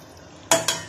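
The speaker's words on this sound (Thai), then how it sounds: "น้ำเดือดแล้วนะคะใส่ปลาดุกลงไปเลยค่ะ" Two quick splashy bursts, one after another, as a catfish over a kilogram drops into boiling water, followed by a fading hiss in a quiet kitchen.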